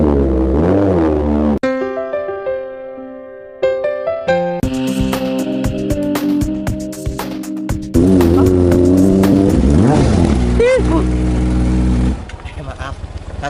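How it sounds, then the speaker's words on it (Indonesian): A Ninja motorcycle engine roars loudly and close, revving up and holding a harsh, sustained drone for several seconds, with voices heard at moments over the noise. "Ini motor apaan sih? Berisik banget."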